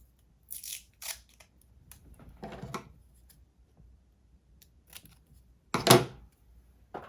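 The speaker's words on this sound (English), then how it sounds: "I think I'll just tape it down with some washi tape." Washi tape being pulled off a roll and pressed onto a paper journaling card: several short crisp tearing and rustling bursts, close and fairly quiet, with the loudest rip near the end.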